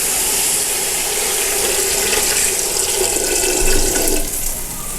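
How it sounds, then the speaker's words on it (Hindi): Water poured from a glass into a cooking pot of peas frying in spices for a rice dish, a steady loud splashing gush running continuously for about four seconds before easing off. "अब मैं इसमें ऐड करूँगा पानी को।"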